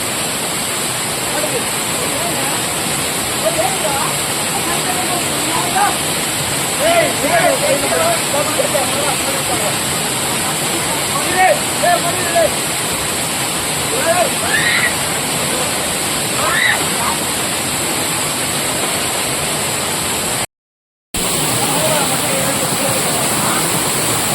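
Damanacherla waterfall pours as a dense, steady broadband roar close by, with voices talking faintly over the rushing water.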